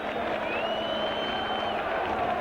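A rugby league crowd at a Widnes versus St Helens match applauds Martin Offiah's try for Widnes, a steady wash of clapping and crowd noise with a faint whistle-like tone drifting through, continuous and moderately loud.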